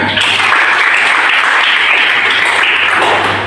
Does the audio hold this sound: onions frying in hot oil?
no